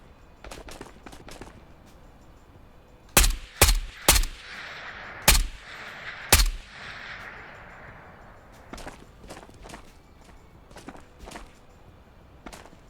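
Gunfire in the video game Ghosts of Tabor: five loud, sharp shots fired in an irregular burst, with fainter, more distant shots scattered before and after.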